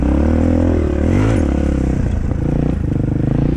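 A Shineray VXR 300 motorcycle being ridden, its engine droning loud and close with a rising rev and then a shift to a steadier rumble, along with some clatter and wind.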